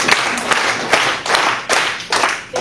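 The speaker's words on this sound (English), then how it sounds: "5 claps and 1 snap" A group claps in unison in a repeated pattern, sharp broadband bursts landing roughly every half second in a close, loud sequence, with no talking over it.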